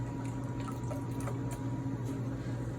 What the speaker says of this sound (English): I'm adding vegetable cooking stock. I want 6 cups of liquid.